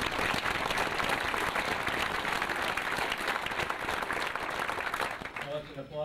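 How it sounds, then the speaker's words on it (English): Audience applause at a 1999 United Way awards ceremony in New Hampshire after a fundraising campaign goal is announced as exceeded: dense, loud clapping sustained for about six seconds, thinning slightly at the end. "that's an applause you do for yourselves"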